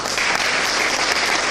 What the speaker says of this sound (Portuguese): Dê palmas para ele.